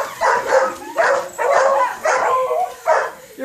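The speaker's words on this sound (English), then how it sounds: "You're rattling up the dogs!" Several dogs bark and whimper in short, loud bursts about every half second, with yips and whines between, during a mother-and-son crab claw battle rematch.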